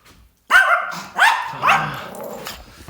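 Chihuahua barking and growling close by: three sharp, loud barks roughly half a second apart, each trailing into a rough growl, with no talk over them.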